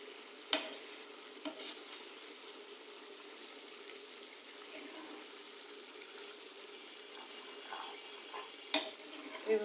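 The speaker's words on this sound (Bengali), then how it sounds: "এইভাবে আলুতে করে কিছুক্ষণ ভেজে নেব।" Brain curry with potatoes frying in a pan, giving a steady low sizzle throughout with a few sharp utensil knocks near the start and end.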